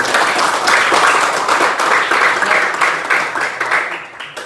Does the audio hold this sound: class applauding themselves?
yes